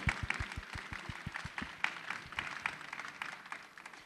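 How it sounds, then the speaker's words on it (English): Audience applause at a London sustainability keynote event, a steady mass of clapping running throughout at moderate level, with a few sharper individual claps standing out. "can we get a massive round of applause for Burgess Salmon and yourselves"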